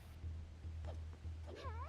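A cat meows in The Wind Waker video game, one quiet rising and falling call near the end over a low, steady hum.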